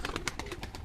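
A pigeon takes off, its wings giving a quick run of rhythmic flaps, close and moderately loud, lasting under a second.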